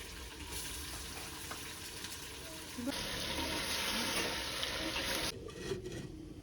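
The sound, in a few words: chicken frying in pot with fried onions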